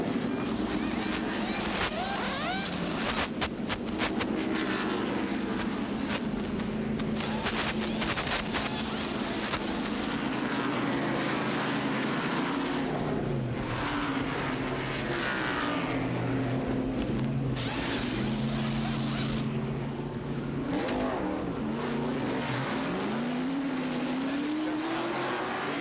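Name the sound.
NASCAR pit stop, tires changed on Rusty Wallace's car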